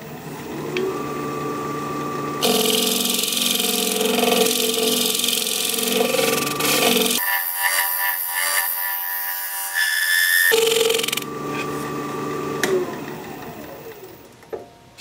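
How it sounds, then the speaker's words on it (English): A woodturning lathe spinning a wood piece, a steady motor hum with harsh broadband scraping as a tool cuts, then a quieter stretch and more scraping, close and alone. "I'm going to scrape it."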